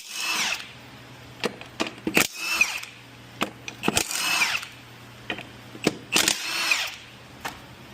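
Bursts of a power tool or impact driver work close by at the 17 mm nuts while the wheel comes off a 1998 Kawasaki Bayou 300 ATV, with short whirring runs broken by clicks and metallic knocks and no speech.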